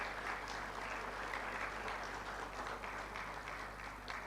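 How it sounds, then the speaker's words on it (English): Graduates at a university graduation ceremony stand and applaud their loved ones, a steady, dense roar of clapping from a large crowd that holds at an even level throughout, with no break or fade. "and give them a round of applause?"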